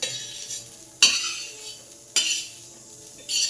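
A metal spoon scrapes fried onion out of a pan in three sharp clinking strokes, each followed by a short rasping scrape and a faint sizzle, with no talking.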